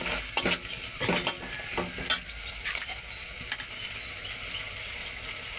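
Tomatoes and onions frying in a pan, close sizzling broken by several quick scraping stirs early on, then a steadier hiss with no talking.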